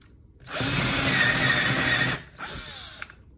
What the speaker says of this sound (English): then you drill the hole. You drill a little at a time